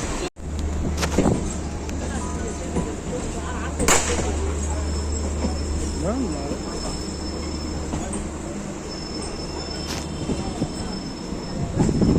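A crowded evening local train runs on rails from Lakshmikantapur to Sealdah, with a continuous low rumble, sharp wheel squeals and clanks, and faint voices in the carriage.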